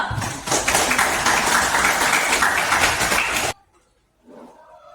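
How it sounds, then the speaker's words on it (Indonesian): A classroom of students claps for a classmate after her presentation, a dense burst of applause lasting about three seconds before stopping abruptly, followed by a faint voice in the quiet. "kita berikan tepuk tangan untuk Priska dulu"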